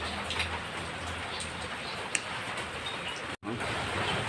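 Morning rain falls in a steady, even patter close by, with a faint tick partway through and a momentary break in the sound.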